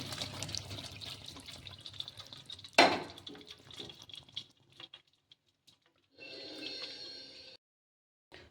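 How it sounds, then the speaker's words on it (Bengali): Boiling water is poured off a cooked banana flower: close splashing and patter of liquid at first, then quieter drips, followed by a brief stretch of running water like a tap. "এবার আমি সিদ্ধ জলটা ফেলে দেব একটা নিতে সিদ্ধ জলটা ফেলে দিচ্ছি"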